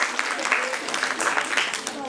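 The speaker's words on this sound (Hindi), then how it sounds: "बिल्कुल ठीक बता, ताली बजा दो," Brief, moderately loud clapping from an audience at a workshop on women and cleaner waste practices, a steady patter of hands with no clear break.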